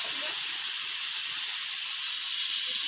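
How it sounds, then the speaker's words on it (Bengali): Fish frying in a pan on a gas stove gives a loud, continuous close-up sizzling hiss with faint scattered crackles throughout, no voices. "মাছ ভাজা বসিয়েছি দাঁড়াও গ্যাসটাও কমিয়ে দিই মানে এটাও ফটফট করে আওয়াজ হয়ে যাচ্ছে"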